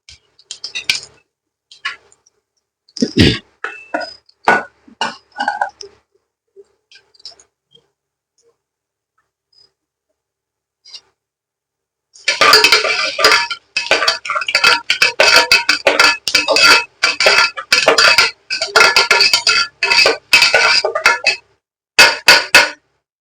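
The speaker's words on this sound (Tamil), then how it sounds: "கடுகு, உளுத்தம்பருப்பு, சீரகம், சோம்பு, பெருங்காயத்தூள் இதெல்லாம் போட்டுக்கிறேன்." Mustard seeds, urad dal, cumin, fennel and asafoetida dropped into hot oil for a brinjal kuzhambu: a few scattered clinks, a quiet stretch, then sustained loud crackling and popping spatter.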